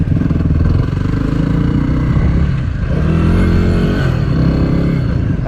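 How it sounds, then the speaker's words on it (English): A motorcycle engine idles and blips loudly up close with steady low throttle pulses and a few revs, its tone likened to a Honda XR250 dirt bike, running alone throughout. "The motor kind of reminds me of like a XR250 a little bit."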